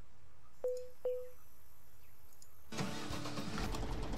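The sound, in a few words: tractor engine starting in Pro Farmer 14 video game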